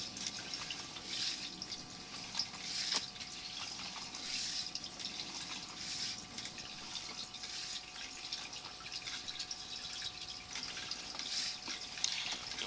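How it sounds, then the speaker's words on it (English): Water running from a garden hose into the sewer line of a 1950s home with cast iron and concrete pipe, a faint trickling and dripping flow heard steadily with occasional clunks, no voices. "You'll notice I have some water running."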